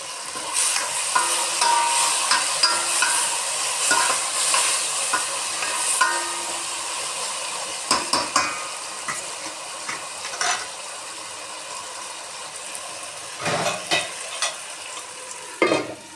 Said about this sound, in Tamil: ரெண்டு நிமிஷம் வதங்கட்டும்.